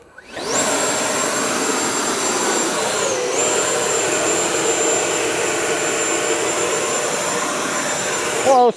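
Horizon Hobby F-18 Blue Angels RC jet with an 80mm electric ducted fan on a 6s lipo, spooling up to a loud, steady high-pitched whine at throttle for several seconds, close by, then cutting off.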